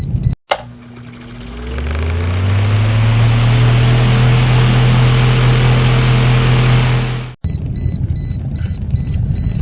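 A car heads into city traffic, its engine rumble rising in pitch over the first couple of seconds and holding as a loud, steady in-cabin drone before cutting abruptly to lighter road noise with a faint repeating beep.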